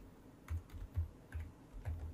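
Quiet, close keyboard typing as code for an Excel VBA procedure is entered. About five soft clicks come at uneven intervals, with no voices.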